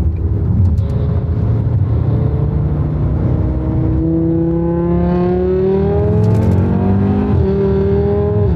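A five-cylinder car engine accelerates on a test drive, a loud steady drone whose harmonics climb in pitch as it pulls, easing briefly near the middle before rising again continuously.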